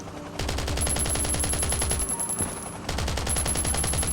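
Rapid assault-rifle bursts fire at a helicopter in Last Island of Survival, loud and close, pausing briefly before the rattle resumes, with a high electronic tone running along much of it.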